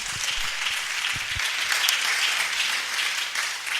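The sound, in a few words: congregation applauding in praise of the Lord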